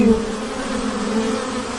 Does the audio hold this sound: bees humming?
yes